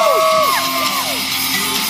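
A crowd at a BMX trick show whoops and yells with rising and falling shouts. The cheers are loud but fade quickly.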